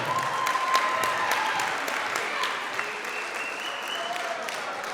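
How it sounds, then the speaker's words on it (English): A school assembly crowd applauds the day's student performers, a sustained wash of clapping from a large audience that starts strong and gradually eases, with a faint tone running underneath. "let's give a big round of applause to everyone who performed today for giving us an amazing show."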